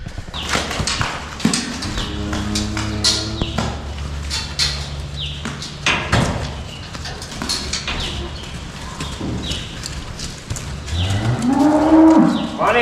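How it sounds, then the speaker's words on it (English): Cattle on a farm moo repeatedly in loud, drawn-out calls, several animals near and farther off, with hoof clip-clops and rustling around them as they are herded in for the evening. "Getting about time to lock these cows in the mill"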